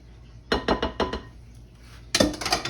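Muffin batter scraped and knocked off a whisk and spatula against a mixing bowl: a quick run of four or five sharp clinks, a brief pause, then a denser burst of scraping and tapping, close and clear.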